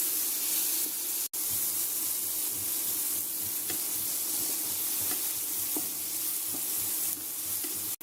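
Tomatoes and other ingredients cook in a fry pan over a medium flame, giving off a steady, close sizzle. Occasional light clicks of stirring come through, and the sound cuts out briefly twice.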